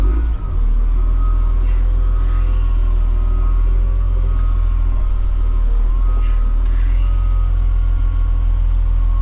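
A 2005 CAT 950G wheel loader backs in with its reversing alarm sounding over a loud, steady, low diesel engine drone heard from inside the machine.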